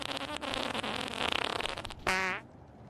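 A fart noise bursts out in an online video game lobby, a long wet rasping run of sputters followed by a short, louder tonal blat near the end, close and fairly loud.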